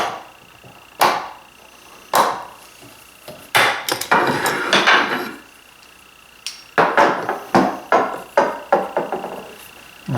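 Sharp tapping blows drive wooden pegs into press-fit holes in a cribbage board, first a few spaced hits, then quicker bursts of several taps with short pauses between them.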